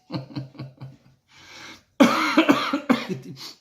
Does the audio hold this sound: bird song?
no